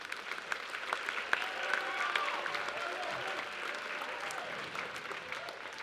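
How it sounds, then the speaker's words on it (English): Audience applause at a high school band Christmas concert, steady dense clapping from a seated crowd filling the hall, with a few sharper individual claps standing out. "So give yourself a round of applause."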